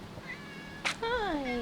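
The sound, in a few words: cat meowing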